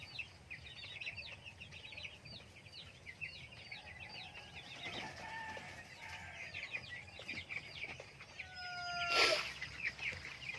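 A flock of 26-day-old broiler chickens in a poultry house, clucking and chirping in a continuous busy chorus at moderate distance, with one louder squawk near the end.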